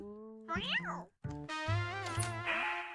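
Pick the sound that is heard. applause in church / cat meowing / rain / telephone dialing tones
cat meowing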